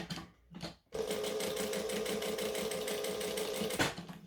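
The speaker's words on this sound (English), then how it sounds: "Making sure that we are back stitching at both ends." Sewing machine running a continuous seam on a small fabric wristlet, with reverse stitching at each end; after a couple of brief starts it hums steadily and close for about three seconds, then stops.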